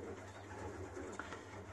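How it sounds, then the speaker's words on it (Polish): Pigeons coo softly inside a loft of individual breeding cells, a steady low murmuring that runs through the whole moment with no talk over it. "Jesteśmy w moim gołębniku z celami indywidualnymi."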